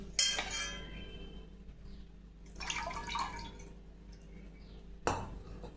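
Water trickles and drips over a Krishna idol during a Janmashtami bath ritual, in a few short splashy bursts with soft metallic clinks from the vessel between quiet gaps.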